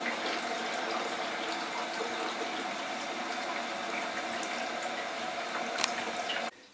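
A Korky toilet fill valve refills the tank, giving a steady rushing hiss of running water that goes on evenly and then stops abruptly at the end.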